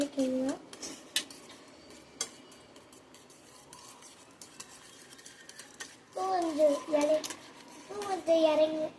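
A spoon stirs an egg mixture with salt and coriander in a bowl for a bread egg toast snack, scraping and clinking at close range in bursts, with a voice talking over parts of it.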